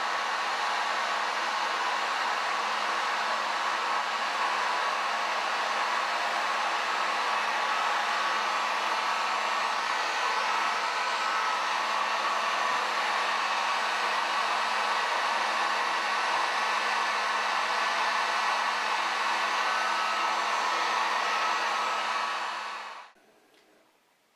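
A Harbor Freight Warrior heat gun on its high setting blows with a steady, loud, airy whoosh that holds for about twenty seconds and then winds down to silence.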